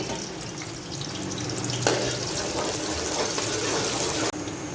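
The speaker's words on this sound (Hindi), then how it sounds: "यहाँ ऑयल हमारा गर्म हो चुका है, अब हम इसके अंदर डाल देते हैं प्याज। प्याज को हम लाइट ब्राउन सा कर लेंगे हाई फ्लेम पे।" Sliced onions crackle and sizzle steadily in hot oil over a high flame while cooking mutton keema pulao, a loud, continuous frying hiss with occasional stirring scrapes and no talking.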